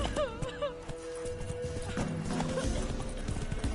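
Roach, a horse in The Witcher 3 on Death March difficulty, clip-clops along with steady close hoofbeats, opening with a clear whinny and snorts over busy ambient game sound.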